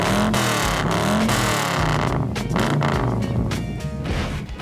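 A custom street rod, a lead-sled cruiser at a rod run on a cool, wet day, fires up and revs loudly up close, its engine rising and falling in rough throttle blips.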